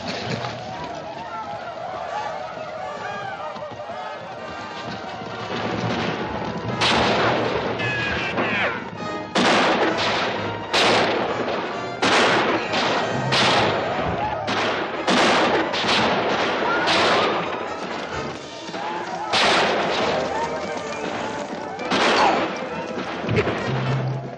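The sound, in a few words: gunfire in a battle scene from a western movie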